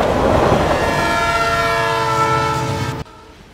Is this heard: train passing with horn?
yes